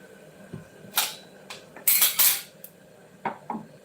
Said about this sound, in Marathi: मस्त असा त्याच्यावरती झाकण झाकून आपण हे होऊन द्यायचं आहे